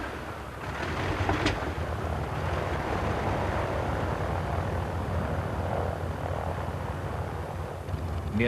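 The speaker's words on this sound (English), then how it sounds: "The Junkers 52, nicknamed in German Tante Ju, or Auntie Junkers, was among the most famous of all transport aircraft." Radial piston engines of a Junkers 52 transport aircraft drone steadily in a dense, rumbling roar, with a brief brighter whine near the start, holding at a constant level throughout without voices.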